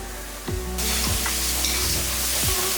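Ginger and garlic sizzling steadily in a hot pan for chicken curry, a loud continuous frying hiss with a few soft stirring scrapes, with no talk.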